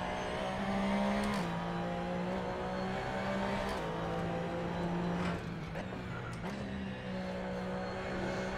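A Porsche GT3 Cup race car engine in the Assetto Corsa racing game drones steadily at fairly constant revs, with small pitch shifts as it changes speed, quiet and continuous with no talk.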